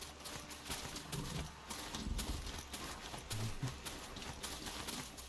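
Horse hooves clop steadily over rough ground in Horizon Zero Dawn, a fast, even galloping rhythm at moderate distance, fairly quiet beneath a broad wash of outdoor ambience with no talking.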